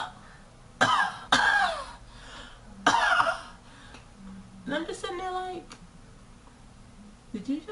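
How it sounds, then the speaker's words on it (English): Several harsh coughs burst out close by, three loud hacks with pauses between, followed by a voice speaking briefly. "Did you just cough on me?"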